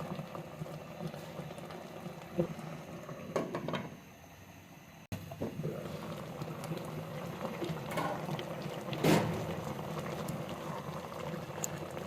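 Tomatoes simmering in a pot of water for sauce, a steady low bubbling and gurgling boil that continues throughout with a brief quieter pause, no voices.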